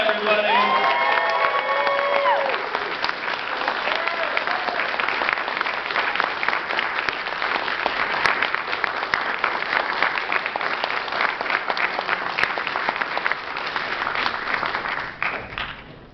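Loud audience applause with cheering and whoops fills a convention hall at a CHiPs Q&A panel in Niagara Falls, sustained and dense throughout before tapering near the end.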